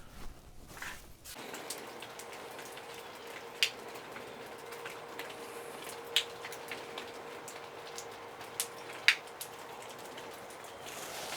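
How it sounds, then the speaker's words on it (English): Steady rain falls outside on a cold 44-degree day, a soft continuous hiss with occasional sharper drips and taps landing nearby. "It's 44 degrees and raining outside."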